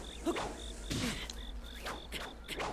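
Buzzing bees in Zelda: Breath of the Wild, a steady insect drone with a repeating high tone running through the whole stretch, broken up by short bursts of other game sound.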